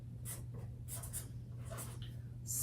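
Chalk or marker writing on a board in a pre-kindergarten reading lesson: a few short scratchy strokes in bursts over a steady low hum, close and fairly quiet, with no talk.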